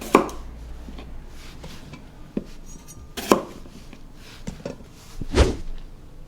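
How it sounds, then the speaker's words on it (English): Knife chopping through potatoes on a cutting board for a potato salad, a series of irregular firm chops and thuds, some louder strikes, close and clear with no talking. "So I'm just going to cut them all."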